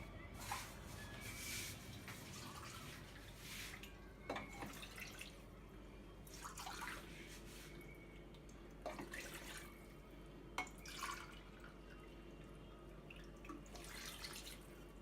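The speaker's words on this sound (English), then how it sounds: "now we're going to put 1250 ml of water into my pressure cooker" Water, about 1250 ml, poured into a pressure cooker while making yakhni pulao, a steady faint splashing and trickling stream with scattered drips and clinks running the whole time, no voices.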